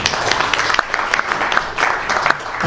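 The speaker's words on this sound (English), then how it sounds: "Please give one more round of applause to both the presenters." An audience claps for two presenters after a talk on renewable energy and community futures, a short burst of dense, bright applause from a crowd, close and steady, with faint voices mixed in.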